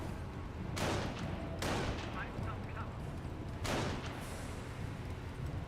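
Gunfire in the World War II strategy game Company of Heroes, three loud sharp shots with booming tails at uneven intervals over a constant rumbling battlefield background.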